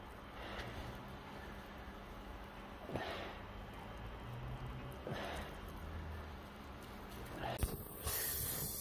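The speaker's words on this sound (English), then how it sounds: "we've just got a standard backpack sprayer, pre-mixed with a biocide inside, and we're using a DA component soft wash nozzle" A standard backpack sprayer pushes biocide through a soft wash nozzle onto a roof, giving a steady, moderately faint spray hiss with a few brief surges, against a quiet outdoor background.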